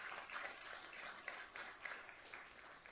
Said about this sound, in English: Could we have a round of applause, please, for Tessa?